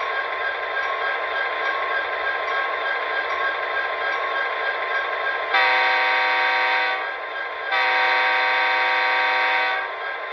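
Athearn Genesis SD70M model locomotive with a Tsunami sound decoder, playing a steady diesel rumble with two loud horn blasts layered on top, alone without talk.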